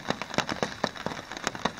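Patter of rain falling on a tarp shelter nearby on the Appalachian Trail, irregular soft taps and crackles over a continuous wet hiss.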